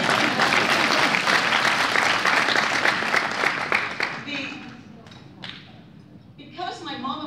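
Hearty audience applause at a community breakfast gathering, dense and loud at first, then thinning and fading out, with a few voices and room sounds emerging as the clapping dies down.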